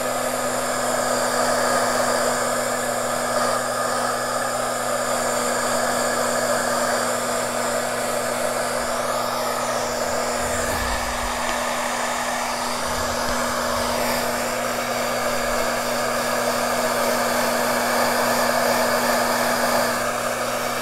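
A hair dryer blows over glycerin-treated paper, a loud steady whooshing roar with a constant motor hum that runs close and unbroken for the whole stretch, with slight wavering as it is moved.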